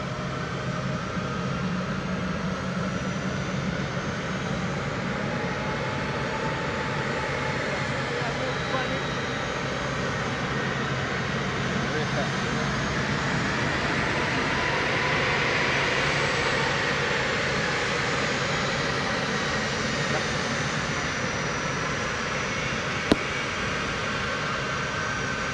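A US Air Force C-17 jet departs from a runway at Montego Bay, Jamaica. Its engines make a continuous, heavy broadband roar that holds steady and swells slightly midway through.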